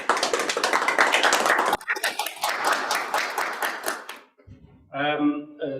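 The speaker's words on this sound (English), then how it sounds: "Can we just clap our hands" Ladies and gentlemen in the audience at a book launch clap their hands in a dense, lively burst that thins out and stops, followed by a brief voice.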